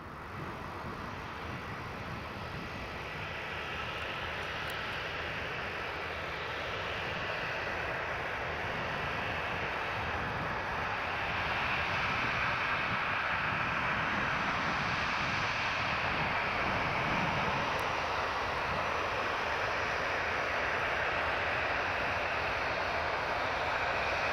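EasyJet jet airliner engines at Newcastle Airport give a broad, distant roar that builds slowly and steadily for about twenty-four seconds, with no voices.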